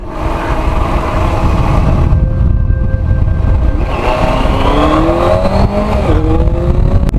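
A Benelli 600i motorcycle's engine revs loud and close, holding a steady roar that rises and falls as the throttle is twisted, with no talking over it.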